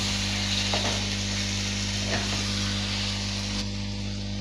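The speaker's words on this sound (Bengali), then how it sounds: "এবার আমি মেখে রাখা মাংসগুলো দিয়ে দিচ্ছি দিয়ে আবার একটু নেড়ে চেড়ে তারপরে এটা ঢেকে দেব" Marinated chicken pieces go into a hot pan and fry with a constant close hiss, a low electrical hum underneath and a couple of faint stirring scrapes.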